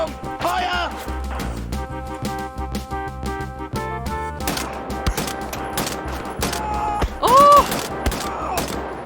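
Rapid gunfire in the Wolfenstein: The New Order video game, a dense burst of sharp repeated shots followed by scattered single cracks and impacts, loud and close, mixed with game music and a player talking.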